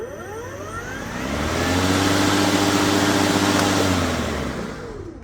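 EGO LM2156SP battery-powered lawn mower running, its motor whir swelling up to a steady loud hum with a rising then falling pitch before fading out, no talking.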